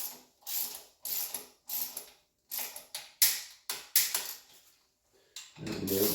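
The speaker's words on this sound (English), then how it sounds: "Now the top caps are nipped up, we can nip up the top fork pinch bolts." Torque wrench tightening the top fork pinch bolts on a 2023 Yamaha R1 track bike with Ohlins forks, giving a run of about ten close, loud ratcheting clicks in short bursts, with no talking.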